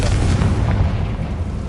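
A Confringo blasting spell explodes in a video game, a dense, continuous low rumbling boom that stays loud across the short stretch with no speech.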